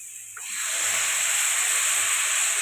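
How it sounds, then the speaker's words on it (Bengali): Water pours into a hot pan of spiced rohu fish curry with green banana, potato and drumstick, rising into a loud steady hiss and steam rush that holds close and unbroken. "মশলা দেওয়া হয়ে গেছে এর মধ্যে দিয়ে দেবো জল"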